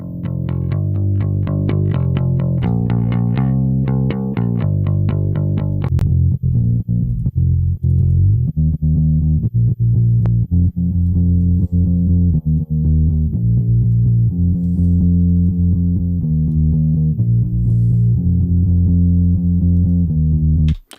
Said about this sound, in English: moving on to the bass